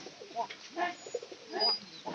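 Pigeons coo close by in soft, throaty bursts repeated several times, with short pauses between calls.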